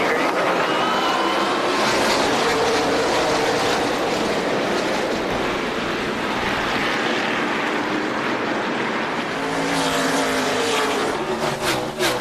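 NASCAR stock cars racing at the 2003 Subway 500, a loud, steady roar of engines as the pack passes close by and sweeps on, with no speech.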